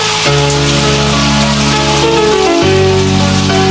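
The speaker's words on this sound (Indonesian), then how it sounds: "Tadi nggak hujan, tiba-tiba jadi hujan sekarang." Sudden rain falls in a steady, broadband hiss throughout, loud and close, with tonal music playing over it and no talking.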